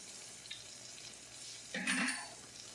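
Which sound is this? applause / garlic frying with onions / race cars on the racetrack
garlic frying with onions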